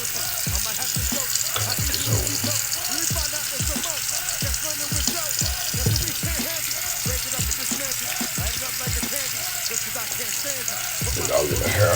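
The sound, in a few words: water running while wetting hair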